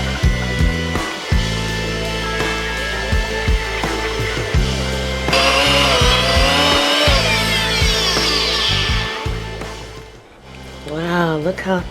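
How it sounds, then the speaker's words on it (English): A blender whirs loudly and continuously up close while it blends sea moss with water, its motor pitch rising and shifting as the mix thickens, then dipping briefly near the end. "I'm just going to put a little bit of water in this to get the propellers going."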